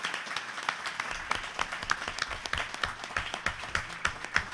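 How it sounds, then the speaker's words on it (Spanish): Audience applause at a book presentation, a dense room-wide patter of many hands clapping steadily with a few sharper claps standing out, fairly close and sustained throughout. "qué les parece si los despedimos con un aplauso antes de los autógrafos?"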